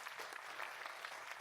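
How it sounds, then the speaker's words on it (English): Dense, steady clapping from an audience at a panel event on Singapore's electoral future, filling the room continuously and fairly evenly, with no voices standing out above it. "everyone give Iris a round of applause for those introductions"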